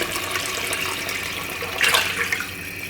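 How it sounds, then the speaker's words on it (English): Six cups of water poured from a tap or jug into a pot for homemade black bean soup, a steady close rushing splash that swells briefly near the end. "6 cups of water go in."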